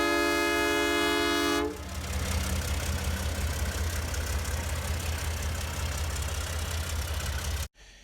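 A loud train horn blares for a moment, then locomotive 8704 rumbles and clatters steadily past nearby on the Aspen Crossing Railway before cutting off abruptly.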